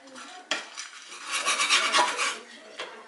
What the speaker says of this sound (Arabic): غندوزوه شويه في المقله يتحمر شي شويه عاد نزيد له شويه ديال السكر